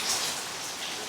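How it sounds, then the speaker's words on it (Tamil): Steady rain falling at night, a constant close hiss of drops on surfaces without pauses over the brief stretch. "இந்த மழை"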